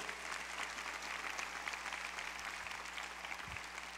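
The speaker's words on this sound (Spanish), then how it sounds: "Un aplauso fuerte para nuestro Señor Jesucristo" A church congregation gives sustained, fairly faint applause during a sermon, an even wash of many hands clapping throughout with a low hum underneath.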